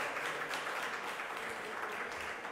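A ceremonial audience in Puerto Rico's Senate applauds steadily for a few seconds, a dense, even wash of clapping with no pauses.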